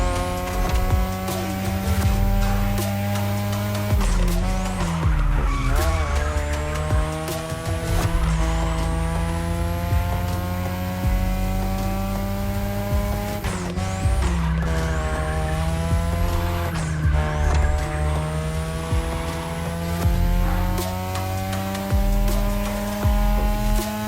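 Cars street racing in The Crew Motorfest, in a Japanese street-race setting, keep up a loud, continuous engine roar broken by repeated tire squeals and skids, with gear-change swells rising and falling throughout.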